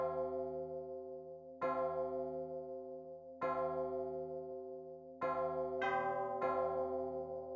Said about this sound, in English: The halfway mark of the Westminster chimes is heard